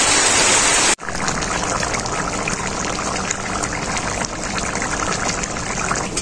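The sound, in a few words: water poured into chicken curry for broth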